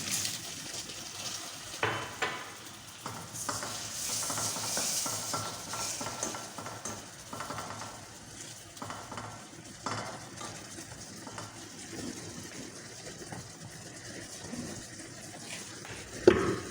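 Masala bhindi stirred in a pan, with scattered scraping and clinking spoon strokes over a low steady sizzle and a sharp knock near the end, with no talking.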